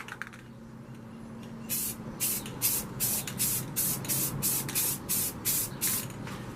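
White Rust-Oleum spray paint hisses from an aerosol can during spray paint art, starting with a faint hiss and then a steady series of about ten short, close bursts.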